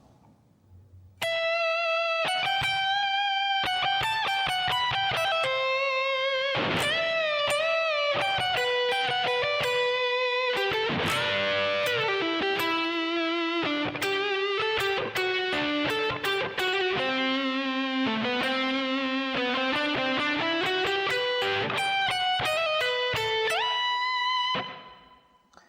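A lead electric guitar with distortion plays a slow solo of sustained bent notes, pull-offs and slides up the neck, loud and alone for over twenty seconds.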